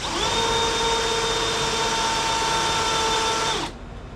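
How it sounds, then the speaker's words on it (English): A power drill bores steadily down into epoxy to make the hole for an Epic V9 or V7 kayak rudder post, a loud continuous whine at constant pitch lasting several seconds before cutting off abruptly. "So here I'm going to drill the hole. I drilled the pilot already, and off we go. Drilling down into the epoxy."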